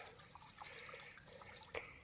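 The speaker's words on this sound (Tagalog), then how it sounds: "Ito po, may tubig na po humaagos." Water flows from a freshly dug hole on a mountainside as a faint, steady trickle, with a brief slightly louder splash near the end.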